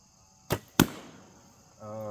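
An arrow shot from a bow at a purple balloon on a turkey target, two sharp loud snaps in quick succession followed by a faint ringing hum.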